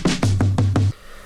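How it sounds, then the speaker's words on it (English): Short drum fill from a Splice sample triggered on an MPC: five quick, punchy hits with deep booming toms, evenly spaced and loud, then a brief decaying tail. "It's just a drum fill from Splice"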